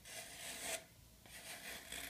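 Two long rasping strokes of a hand plane shaving the leading edge of a wooden rudder fin, each a steady hiss with a short pause between, close up and without talk.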